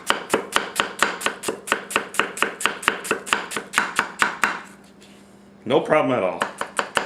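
A Tsutomu Kajihara 210mm gyuto knife chops rapidly on a board, about twenty crisp, evenly spaced strikes, pausing briefly before someone speaks and the chopping resumes.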